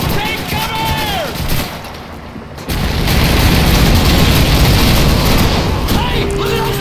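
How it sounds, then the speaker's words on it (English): Call of Duty 2 wartime battle audio with a bombing run: continuous heavy booms and dense gunfire roar loud and close. A whistling tone sweeps overhead and a voice shouts briefly amid the din. "It's a bombing run. Take cover."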